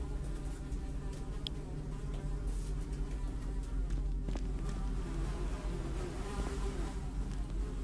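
Several flies buzz close by in a dim cave-like setting, a continuous droning hum with wingbeats swelling and fading, steady and moderately quiet throughout.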